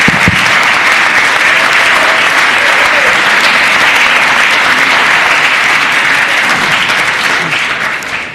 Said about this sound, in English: Let's give them a warm welcome of applause.